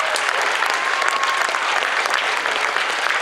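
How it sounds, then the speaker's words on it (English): An audience at a comic convention cosplay contest in London, Ontario claps steadily and loudly for guests, a dense, continuous wash of applause across the whole stretch. "So big round of applause for all of our guests"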